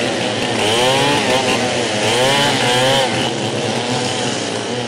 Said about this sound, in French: Tronçonneuse en main, ces ouvriers sont de plein pied dans les travaux de déboisement de la cuvette du barrage de Samandeni